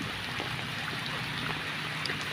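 Steady rushing of a waterfall, a continuous wash of sound with no voices, moderately quiet.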